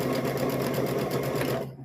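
A sewing machine stitches across a small fabric triangle for a stuffed bear's bottom, a quick steady whirring run of needle strokes that stops abruptly at the end.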